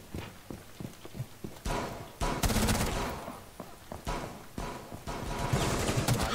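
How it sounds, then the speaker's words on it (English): Gunshots in Rainbow Six Siege, a string of sharp single shots and a denser burst, moderately loud with game ambience and faint voices. "Oh shit, I shot the hostage by accident."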